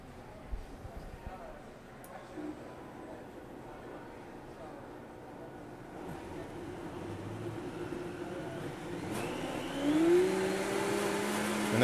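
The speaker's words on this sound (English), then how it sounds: "now we're going to come to the blender. We're going to start off on low." A kitchen blender starts pureeing butternut squash soup on its low setting, a faint motor whir that builds gradually and grows louder toward the end.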